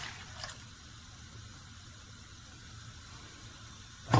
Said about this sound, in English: we pour in the milk